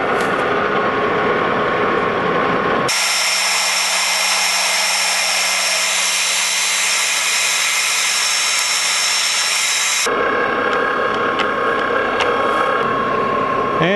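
Metal lathe facing the end of a Greenlee shaper spindle, a steady loud machining whine with a strong hum holding through most of the stretch, rougher shop noise at the start and end.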